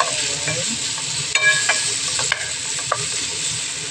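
Chicken with soy sauce is stirred in a hot frying pan, with a steady sizzle broken by several sharp clinks and scrapes of the utensil against the pan.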